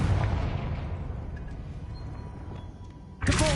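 A Confringo spell blast from the Hogwarts Legacy video game sounds as a dense, rumbling boom that sustains for several seconds. A sharper, bright burst cuts in near the end, with no speech over it.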